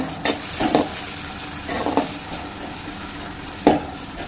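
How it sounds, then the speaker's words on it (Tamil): Onion and garlic frying in a pan for bitter gourd poriyal, a steady low sizzle broken by four or five short spoon scrapes and knocks, close up with no talking. "வெங்காயத்தை ஆட் பண்ணிக்கலாம் இப்போ இது கூடவே எடுத்து வச்சுருக்க பூண்டும் ஆட் பண்ணிக்கலாம் இதை நல்லா கிளறி விட்டுக்கலாம்"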